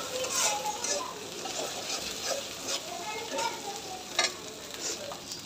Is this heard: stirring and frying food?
yes